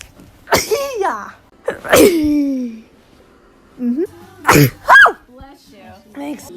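A run of close, forceful sneezes with sharp onsets and voiced tails, several in quick succession separated by brief pauses, with some vocal squeaks between them.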